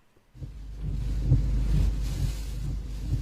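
Strong gusting wind from Typhoon Noru in the northeastern Philippines, with high waves; a loud, low buffeting roar rises after a brief quiet start and holds steady.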